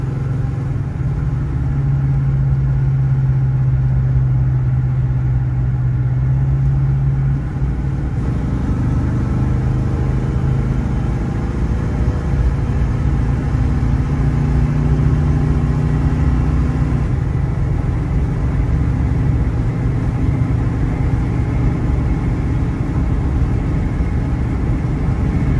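A 1978 Mercury Grand Marquis coupe with a 400 V8 cruising on the road, its deep steady rumble continuous and close from inside the car, with a slight shift in engine note partway through.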